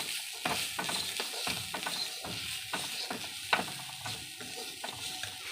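A spatula stirs turmeric-coated food in a cooking pan, giving a series of close, scraping, rattling strokes every half second or so over a faint background sizzle, with no talking.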